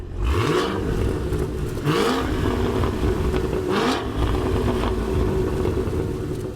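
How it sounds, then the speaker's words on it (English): The deep V8 engine of a 2022 Cadillac CT5-V Blackwing growls steadily, revving up in repeated surges that rise and fall, loud and close throughout. "Nothing compares to the growl of a V8."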